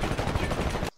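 Gunfire in the Titanfall video game, a dense burst of rapid automatic shots filling almost the whole second before cutting off abruptly into near silence.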